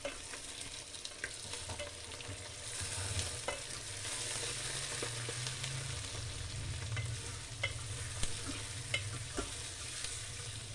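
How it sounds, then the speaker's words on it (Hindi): Chicken pieces fry in oil in a pan with browned onions for a chicken salan, giving a steady, close sizzle with scraping stirs and a few sharp crackles throughout. "चिकन को हल्का सा फ्राई कर लेंगे।"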